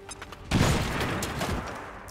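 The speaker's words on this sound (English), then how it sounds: "Grenade!" A grenade in XCOM 2 detonates with one sharp, loud blast after a brief quiet moment, followed by a rough, crackling roar that lingers and slowly fades.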